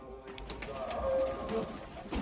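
Pigeons coo softly on a farm while feeding, low murmuring calls blending with a steady bed of background noise and faint rustling.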